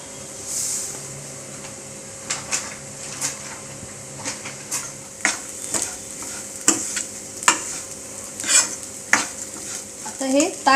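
Green mung bean khichdi being stirred and fried in a pan: steady soft sizzling under repeated scraping strokes of a spoon against metal, close and moderately loud, with no talk.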